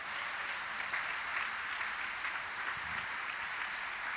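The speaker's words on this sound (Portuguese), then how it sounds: "Você vai aplaudir, aplauda forte." Steady broadband applause from a church congregation during a Portuguese-language worship service, a dense continuous wash of clapping that holds at even loudness throughout, with no voices above it.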